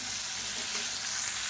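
Tomatoes and onions fry in hot oil, giving a steady, close, dense sizzle with a soft crackle that continues evenly throughout without any talking.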